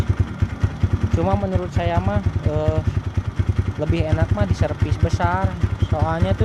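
A 2013 Kawasaki KLX 150 S motorcycle engine idles with a steady, close, low thumping pulse that runs under continuous talk from a man.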